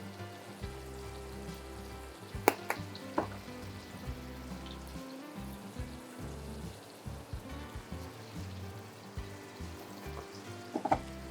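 Garlic and onion frying in a pan for chicken Florentine pasta, a quiet steady sizzle with scattered light clicks and clinks of utensils against the pan.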